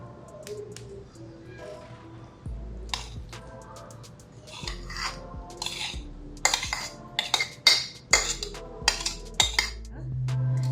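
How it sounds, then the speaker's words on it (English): A metal spoon presses and scrapes homemade milk kefir through a strainer into a glass, giving repeated clinks and rasping scrapes that start sparse and grow louder and more rapid toward the end. "I'm just going to use a spoon and push out the kefir onto my container"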